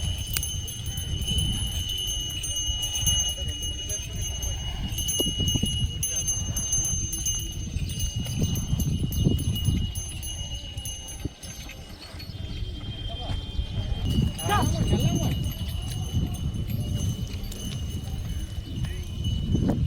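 Soft, uneven clopping of oxen hooves on the ground continues under a constant high-pitched insect-like whine, with occasional faint voices.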